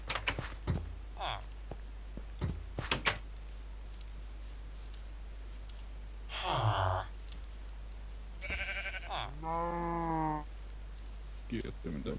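A cow in the Minecraft GT New Horizons modpack gives a couple of drawn-out moos near the end, after scattered clicks and short game noises, with no talk over it.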